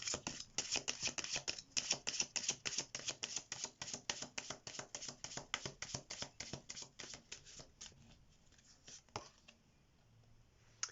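Tarot message cards being shuffled, a long run of quick, crisp riffling flicks in steady rhythm, close and fairly quiet, slowing and thinning toward the end with no talk.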